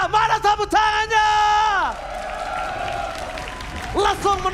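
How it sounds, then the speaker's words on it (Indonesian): A crowd at a Mobile Legends MPL ID Season 11 esports match between EVOS Legends and Geek Slate cheers and whoops while applause rumbles underneath, with a caster's excited voice riding loudly over the top. "Mana tepuk tangannya?"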